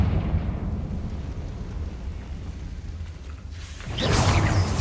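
A blasting Confringo spell goes off in Hogwarts Legacy, a loud, broad explosion erupting after several seconds of low, murky game ambience and then rumbling on to the end.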